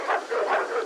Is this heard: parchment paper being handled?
no